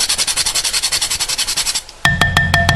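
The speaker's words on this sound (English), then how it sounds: "you want to give a little bit, a grate of nutmeg" Nutmeg is rubbed against a grater in a quick, even run of about twenty rasping strokes, loud and close, before a pause and a few sharp clicks and taps at the end, with no speech.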